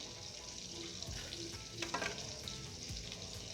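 Steady crackling sizzle of garlic frying in hot margarine and oil, with a few brief clinks and stirring sounds over the continuous hiss.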